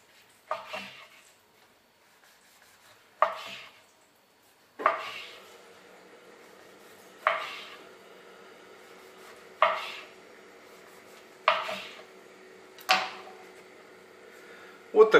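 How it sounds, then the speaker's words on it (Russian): A knife slices chicken lavash rolls into portions on a board, giving about seven separate sharp cuts and knocks spaced a couple of seconds apart, each fading quickly in a quiet kitchen. "Теперь их можно порезать."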